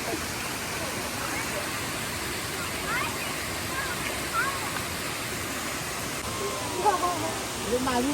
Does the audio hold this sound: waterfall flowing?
yes